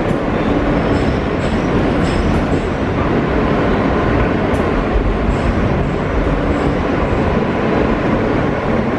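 A New York subway train rides along loud and close, a continuous heavy rumble and rattle of wheels on track with faint squeals and clacks, steady throughout with no talk.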